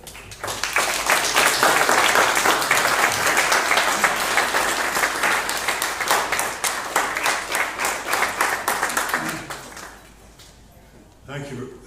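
An audience applauds to welcome a speaker, a loud, dense burst of clapping that holds steady and then gradually thins out and fades, followed by a brief voice near the end.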